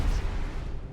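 Defense station explosion in a space combat video game, one deep rumbling boom that fills the whole second, loud and heavy at the start and fading slightly toward the end.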